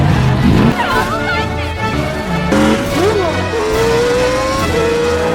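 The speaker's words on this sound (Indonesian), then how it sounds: "Mobil-mobil peserta Grand Prix lainnya pun akhirnya mengadakan perlombaan balapan tidak resmi nih di Radio Spring." Race cars from the animated film Cars 2 roar and rev in an unofficial street race, engines whining up and down in pitch as cars pass close and loud throughout.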